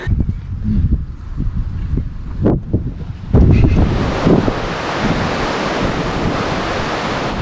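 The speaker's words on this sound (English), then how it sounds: "Gusts of 45-mile-an-hour winds." Strong wind gusting at about 45 miles per hour roars and buffets the microphone in heavy gusts, a loud rumbling rush that surges and then holds steady.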